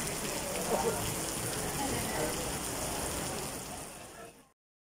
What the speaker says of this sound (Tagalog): Umulan po.